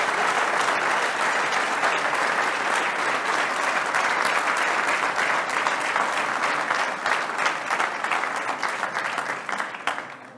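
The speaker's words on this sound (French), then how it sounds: "réservez-leur un tonnerre d'applaudissements" A large crowd at a mayor's New Year greetings event in Port-Saint-Louis-du-Rhône gives local associations a long, loud burst of applause, dense clapping sustained for about ten seconds before tapering off.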